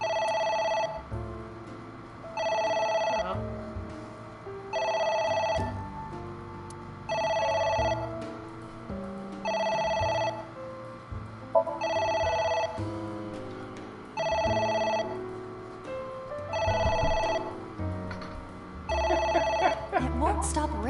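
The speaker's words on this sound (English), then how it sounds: "It won't stop ringing." A telephone rings in the video game AI The Somnium Files, a repeating electronic ring in regular bursts about every two and a half seconds over quiet background music, with brief speech near the end.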